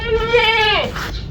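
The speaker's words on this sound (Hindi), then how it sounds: "ये सबसे हमारी सीनियर और लड़ाका बकरी है।" A senior horned goat with a fighting temper, tethered on a farm, gives one loud, close, wavering bleat that drops in pitch at the end. It is set against light background rustling.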